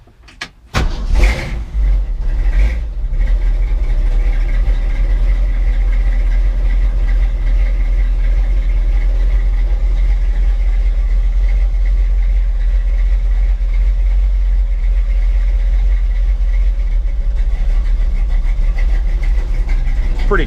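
A cold 1973 Ford F250 highboy 4x4 with a 390 V8 and mild cam starts with a few sharp bursts, then settles into a steady, loud, close rumbling idle that holds evenly throughout, with no talking.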